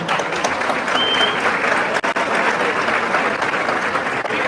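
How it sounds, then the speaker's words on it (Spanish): Applause for a visiting sister from another church, steady and close across the whole stretch, with a brief dip near the middle, at a gathering sharing the word of God in La Unión Sur, El Salvador. "Le damos un aplauso a la hermana."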